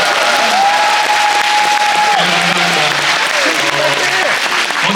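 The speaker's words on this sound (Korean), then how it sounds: "박수 한번 부탁드립니다" Audience applause in a musical theatre hall after a Chuseok holiday stage greeting for Seopyeonje, dense sustained clapping from a large crowd, loud and even, with faint voices and whistling tones mixed in.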